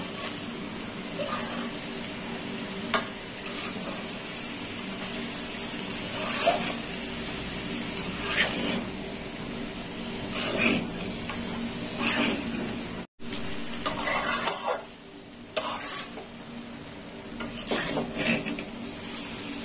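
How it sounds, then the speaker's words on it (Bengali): Boiled mixed vegetables being stirred in a pan for mix veg rice, with repeated scraping and clinking of a spoon against metal in irregular strokes, close and moderately loud, with a soft sizzle underneath. "সিদ্ধ করে রাখা সবজি দিয়ে দিলাম। আরো ভালো করে নেড়ে চেড়ে নেব।"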